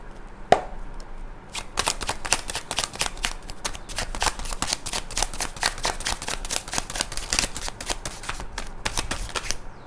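Tarot cards shuffled by hand in a rapid run of crisp riffles and snaps, close and clear, with a single sharp knock near the start and no talking.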